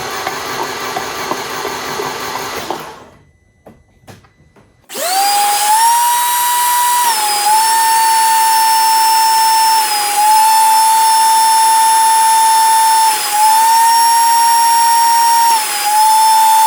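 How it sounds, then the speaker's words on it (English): Wire brush cleaning a corroded car battery terminal: a few seconds of rough, steady scrubbing, a short near-silent pause, then a loud, steady, high-pitched motorized whine that dips slightly in speed now and then. "this guy's looking a little corroded too, so I think we're going to hit that with the wire brush real quick"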